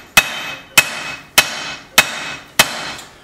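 Hammer forging the bevel of a steel blade, five loud metallic strikes spaced about half a second apart, each with a bright ringing decay, close and clear with no talk.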